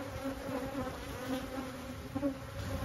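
Honey bees hum at an open hive in a steady, faint, close-up buzz that continues unbroken throughout.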